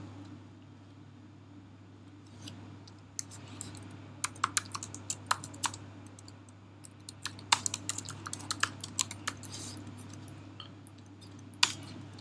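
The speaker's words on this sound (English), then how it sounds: "we will be typing in an address" Someone types on a computer keyboard: a run of sharp, irregular key clicks, close and clear, over a low steady hum, growing busier midway with a final isolated tap.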